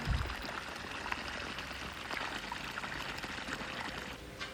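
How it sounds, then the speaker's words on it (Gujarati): Water gushes steadily from the outlet of a three-phase agricultural motor pump, a continuous splashing pour at moderate level with no talk. "તે તમને દેખાય છે અહીંયા એકદમ પાણી કમ્પ્લીટ નીકળવા માંડ્યું છે"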